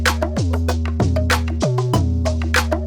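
K-pop production beat built from a heavy sliding synth 808 bass and punchy electronic drums, with steady kicks, snares and crisp hi-hats looping at a brisk tempo, no voices.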